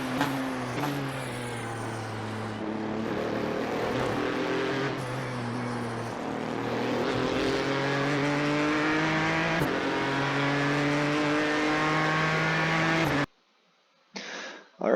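A Ford GTE race car in the iRacing sim laps Imola with a steady, loud engine drone that climbs in pitch through the gears, drops on downshifts and rises again, then cuts off near the end.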